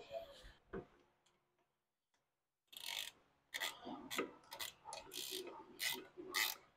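Ratchet tightening the master cylinder clamp on a 1967 Pontiac Firebird, a close run of quick clicking pawl strokes in uneven bursts after a quiet pause, with faint shop noise underneath.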